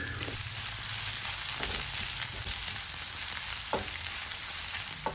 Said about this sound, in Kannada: 2 ಈರುಳ್ಳಿನ ಹಾಕ್ತಾ ಇದ್ದೇನೆ. ಇದನ್ನು ಸಹ ಸ್ವಲ್ಪ ಫ್ರೈ ಮಾಡಿ.